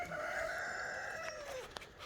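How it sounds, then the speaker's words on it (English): A cockerel crows once in a long, drawn-out call with a falling tail, fairly near, in an outdoor farmyard setting with a brief click near the end. "He just crowed."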